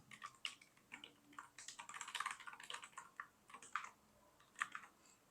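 Someone types code on a computer keyboard in an irregular run of quiet, close key clicks, with bursts of quick presses between short pauses.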